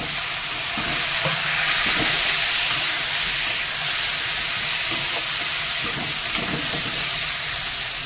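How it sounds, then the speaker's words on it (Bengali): Fried potatoes go into a pan of frying ground spice paste with a loud, steady sizzle and hiss, punctuated by soft stirring scrapes throughout. "বাটা মশলাগুলো, এবার আলু ভাজাটা আছে দিয়ে দেবো।"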